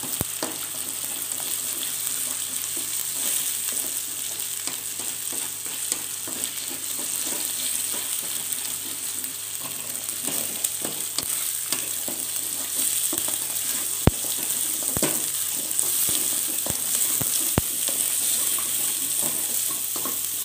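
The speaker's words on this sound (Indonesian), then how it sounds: "kemudian masak bersama udang dan bumbu" Beaten eggs frying in a pan with shrimp and spices, a steady close sizzle with faint stirring scrapes and a few sharp clicks, no voices.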